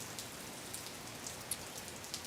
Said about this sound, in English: So heavy rain through Champaign as we speak.